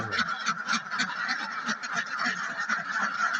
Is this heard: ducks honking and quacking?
yes